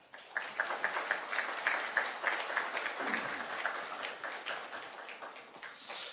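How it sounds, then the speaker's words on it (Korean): A church congregation at a Korean afternoon worship service at Busan Seongji Church claps steadily to welcome the guest pastor. The applause is moderately loud and sustained, fading slightly toward the end. "우리 목사님 나오실 적에 우리 큰 박수로 한번 환영합시다"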